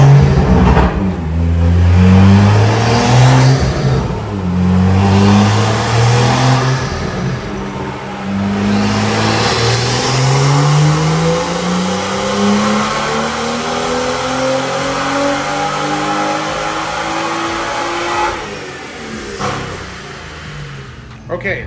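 A BMW M2 with an N55 engine carrying a Stage 2 93-octane catless tune revs hard on a dyno, rising harmonic sweeps repeating through the pass, loud and close, with a voice faintly present under the engine.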